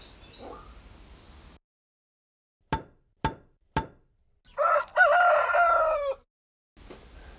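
A rooster crows loud and near, a rising-and-falling call lasting over a second, after three sharp knocks; soft background noise comes before and after.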